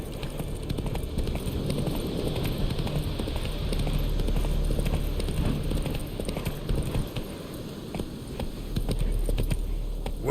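Roach, a horse in The Witcher 3 video game, clip-clops steadily along with continuous hoofbeats over a dense ambient bed, moderately loud and close throughout.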